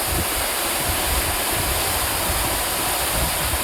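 A jungle waterfall pours as a dense, continuous roar of rushing water, close and loud, steady throughout with no voices.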